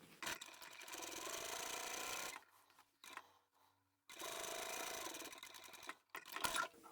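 A sewing machine top-stitches along the edge of a fabric zippered phone pouch, running in two long steady bursts with a brief pause between them and a short restart at the end, close and loud.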